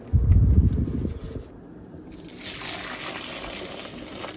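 Water from boiled potatoes pours out of a pot in a loud, splashing gush for about a second, then softens into a quieter hiss of draining liquid, with no talking.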